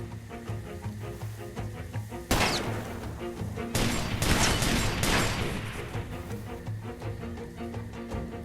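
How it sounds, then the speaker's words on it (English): Sniper rifle fire in the video game Far Cry 2: one loud sharp shot followed a second later by a cluster of further cracks and impacts, over a steady game music and ambience bed. "there's the sniper shooting at me"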